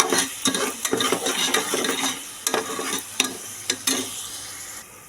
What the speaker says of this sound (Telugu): పసుపు వేసుకొని బాగా కలుపుకోవాలి